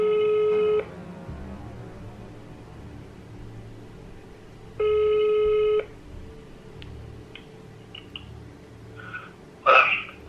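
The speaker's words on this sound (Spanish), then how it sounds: "Voy a llamar por teléfono para que me ayuden." A telephone ringback tone sounds through a speakerphone, two long steady tones spaced several seconds apart over quiet room noise, followed by a brief clatter and a louder beep as the call connects.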